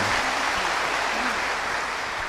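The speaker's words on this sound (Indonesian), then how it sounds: "berikan tepuk tangan semuanya." An audience at an Islamic religious lecture gives a dense burst of applause, a steady hiss of many hands clapping together at moderate loudness with no voices on top.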